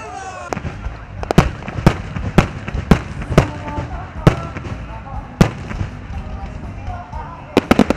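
Fireworks at the 2019 Ilopango Airshow in El Salvador: a dozen sharp bangs burst at irregular intervals over a crowd murmur, with a quick cluster at the end and a voice speaking.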